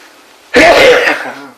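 A single loud, close sneeze bursting out after quiet room tone during a recorded interview with a World War Two US Army Air Forces veteran, trailing off over about a second.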